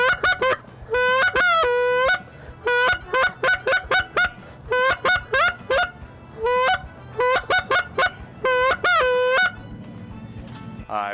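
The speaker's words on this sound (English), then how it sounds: "Here's the goose call." A goose call is blown right at the ear at a decoy carvers' gathering outside a museum, giving loud, sharp honks in quick clusters and doubled clucks with short pauses between runs.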